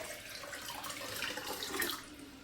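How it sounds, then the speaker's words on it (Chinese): About 1300 ml of plain water pours into a cooking pot as a continuous close splashing rush that swells slightly before easing off, with no voices. "往锅中倒入1300毫升清水"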